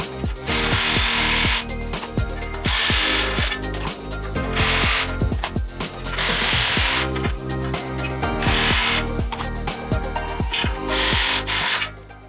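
Power tool driving in roof rack bolts on a Jeep Gladiator, a loud series of ratcheting, whirring bursts in repeated runs of a second or so with short clicks between, close up and without talk.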